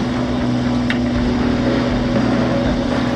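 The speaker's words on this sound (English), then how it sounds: "we have to motor assist to get ourselves through the swell, through the narrow channel, into open water" A sailboat's auxiliary engine drones steadily, motoring into the wind through a six-foot swell in a narrow channel, a continuous low hum with wind and water wash, close and even throughout with no talk.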